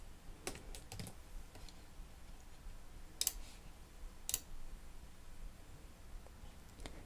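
A hex color code being typed on a computer keyboard: a quiet run of light key clicks with two sharper taps, close to the mic over a soft room hiss, no speech.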